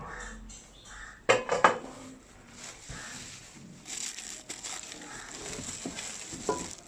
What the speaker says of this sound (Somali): waa kan digsigaana